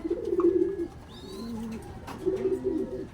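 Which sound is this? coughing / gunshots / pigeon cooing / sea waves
pigeon cooing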